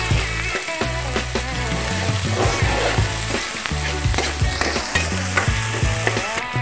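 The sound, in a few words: ginger garlic paste sizzling in the pan while being mixed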